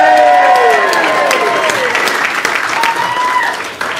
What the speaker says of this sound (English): let's have a big cheer for the new Mr. and Mrs.